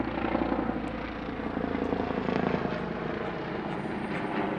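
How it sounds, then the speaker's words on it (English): A military helicopter flies overhead near an army base beside a fishing lake, its steady rotor thrum loud and continuous throughout, with no talk over it. "you have to excuse the helicopters and stuff, because we are right by an army base"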